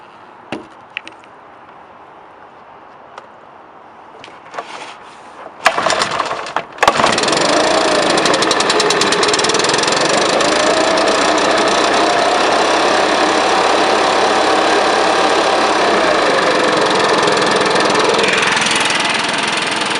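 A Stihl BR 500 backpack blower is pulled to start after a few quiet, faint handling noises. Its engine then catches and roars loud and close, running at a steady high pitch with the choke off, alone and without talk.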